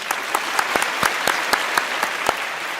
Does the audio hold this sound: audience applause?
yes